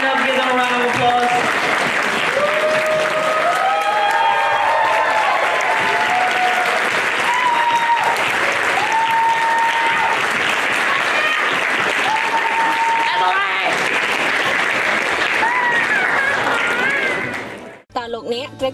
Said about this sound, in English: Can everyone stand up and give them a round of applause?